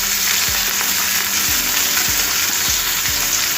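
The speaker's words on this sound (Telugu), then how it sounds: "ఇప్పుడు కొంచెం బ్రౌన్ కలర్ వచ్చే వరకు వేయించుకోవాలి" Finely chopped onions, about a cupful, fry steadily in hot oil for methi matar malai, a broad continuous sizzle with a few soft stirring knocks punctuating it, close and loud with no talking.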